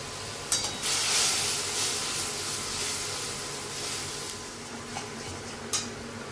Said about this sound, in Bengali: মশলাটা কষে নিলাম